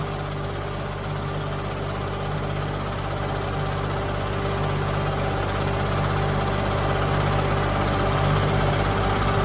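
A tractor engine idles and rumbles steadily in a grape vineyard after unseasonal rain, a loud, even, close mechanical drone with no breaks and no talking.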